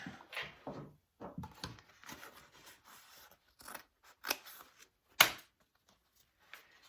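Scissors snipping through fabric or bag material while a shoulder bag is sewn, a few sharp close cuts scattered between quieter handling sounds.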